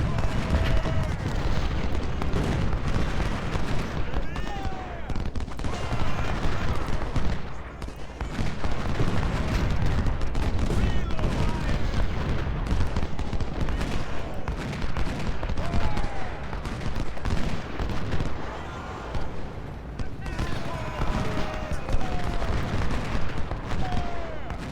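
Gunfire and artillery rumble continuously in the Ultimate General: Civil War battle game, a dense, loud wash of musket volleys and booms running throughout, with a voice talking over it.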